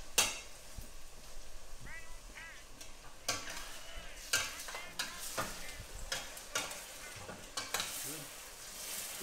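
Octopus cooks in a pan for a fishermen's zuppa di pesce, with loud sizzling and frying under repeated stirring and scraping clatter, close and uneven.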